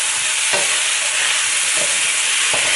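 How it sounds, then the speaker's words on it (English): Chinese broccoli is stir-fried in a very hot wok with hot oil, giving a loud, continuous sizzle close up, broken by about three brief scraping stirs, no talking. "You can hear the wok."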